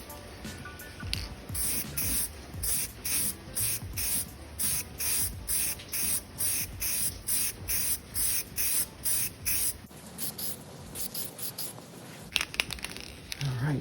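A spray can paints car parts in a quick series of short, even bursts of close, loud hiss, about sixteen of them in a steady rhythm, then a pause and a few final sprays.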